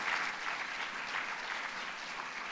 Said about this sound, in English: Can you please also join me in some applause for these sponsors?